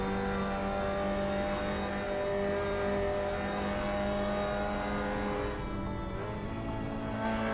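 A Mazda MX-5 and a Radical SR3 race in the Assetto Corsa video game, their engines droning and revving in a continuous, fairly loud whine with shifting pitch and no pauses.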